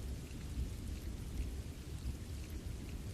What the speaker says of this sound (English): You listen to the rain.